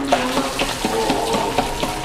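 Eggs fry in batches across eight woks at a busy cooking spot, giving a loud, continuous sizzle broken by repeated scraping and stirring clatter, with no voices over it.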